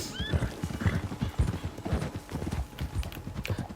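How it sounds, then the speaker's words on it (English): Horse hooves clip-clopping at a steady gallop in Red Dead Redemption 2, with a whinnying neigh rising over the rhythmic footfalls, set against open outdoor game ambience. "Horse!"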